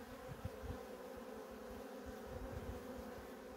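Honey bees at an apiary hive, one of them treated for varroa, make a steady low buzzing hum close by, with no voices.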